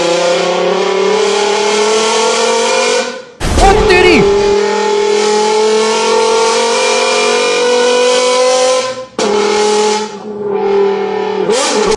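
A car engine in GTA 5 revs and pulls hard with rising and falling harmonic sweeps, cutting out briefly twice with a sharp crash-like burst, while a man exclaims over it.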